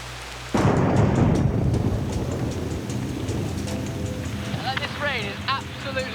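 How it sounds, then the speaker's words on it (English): A heavy tropical downpour on a Pacific island roars in suddenly with low rumbling thunder beneath, a dense steady wash of rain; a voice briefly cuts in near the end. "This rain is absolutely unbelievable."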